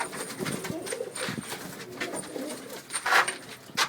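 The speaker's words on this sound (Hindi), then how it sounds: "ये ललसरा है, ये भी हमारी बहुत पुरानी नस्ल है।" A Lalsara pigeon, an old breed, coos softly and repeatedly in an outdoor loft, with some background noise and faint distant voices.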